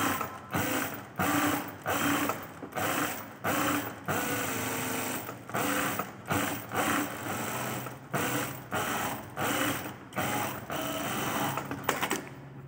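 Sewing machine stitching along fabric edges in quick rhythmic bursts of mechanical whirring and clatter, close and steady, with short pauses between runs.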